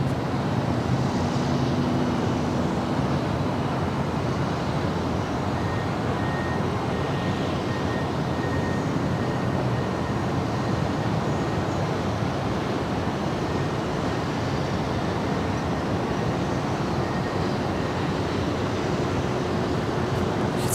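EVA Air Boeing 777-300ER, 14 years old, arriving from Taipei on runway 6 right at Los Angeles airport: a continuous broad roar of jet engines and rushing air, steady and fairly loud throughout with no talking.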